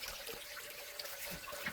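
Clear water trickling steadily from a natural wooden spout at an outdoor source, a soft continuous flow with light splashing.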